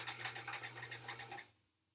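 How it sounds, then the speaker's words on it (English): A sewing machine stitches a quilt block in a steady rapid hum with a fast needle rhythm, running close for over a second and then stopping and fading out. "I'm attempting to sew in a straight line"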